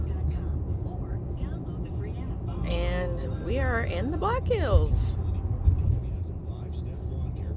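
Car driving on a road out of Rapid City toward the Black Hills, heard from inside as a low steady rumble under people talking.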